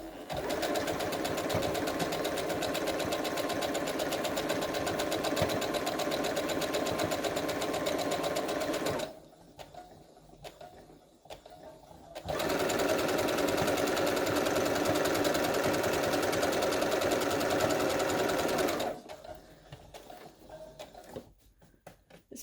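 Domestic sewing machine stitching steadily over pins while altering a crochet tutu, running in two loud continuous bursts with a short quiet pause between and a quieter stretch at the end.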